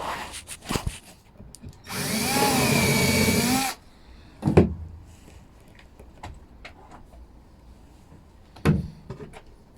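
A power drill with a pozi bit drives Phillips screws into wood while building French doors, one sustained whirring burst of about two seconds, loud and close, with a few knocks and handling taps around it.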